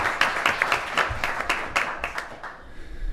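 Applause from attendees at an Oregon Tourism Commission meeting, a steady patter of many hands clapping in a room for about three seconds, with no talking over it.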